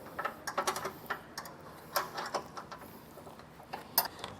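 A ratchet with a 13mm socket removing bolts from a 2022 Chevrolet Silverado while a grille guard is fitted, quick light clicking in uneven bursts, close and fairly quiet, with no talking.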